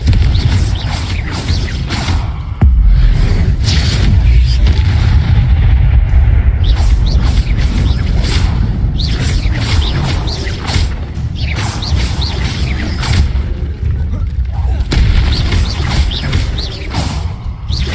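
Confringo blasting spells go off in Hogwarts Legacy, loud booming explosions with whooshes, crashes and mechanical clatter in quick irregular bursts, one heavy blast early and more impacts close together throughout.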